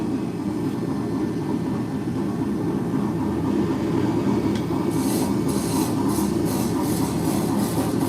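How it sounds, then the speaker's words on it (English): Wood being burnished by rubbing it with wood chips, a steady, close scratchy rasping that continues throughout, turning into brisk repeated strokes toward the end. "the wood chips I use to burnish, so it polishes the wood."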